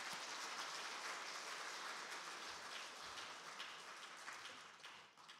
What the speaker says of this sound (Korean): 우리가 서로를 축복하고 서로를 위해서 우리 격려의 박수 한번 하겠습니다